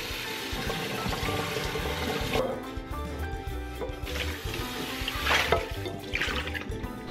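Running water rinses sticky marshmallow off a copper-colored nonstick frying pan in a sink, a steady splashing, trickling wash with a few louder surges, close and continuous with no talk.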